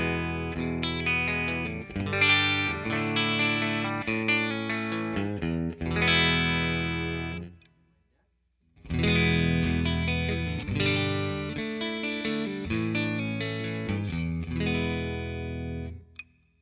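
A clean bridge-pickup tone from a beat-up relic Whitfield Telecaster through a Fender Deluxe Reverb amp strums chords in two bursts separated by a short silence, bright and ringing with reverb tails, no talking.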